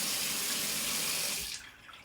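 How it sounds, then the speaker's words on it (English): Water gushes from a tap in a steady, close hissing stream, then cuts off sharply near the end, leaving only a faint trickle behind. "you can use your tap here"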